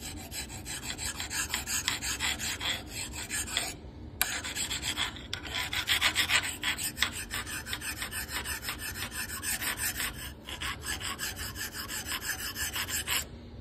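A metal file rasps steadily back and forth along the side of a sandstone arrowhead, producing continuous gritty scraping strokes with brief pauses, close and fairly loud.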